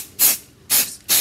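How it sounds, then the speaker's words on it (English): Three short bursts of Smooth On mold release spray from an aerosol can, loud and close with brief gaps between, used as a release coating for a hot glue mold. "Smooth On mold release spray"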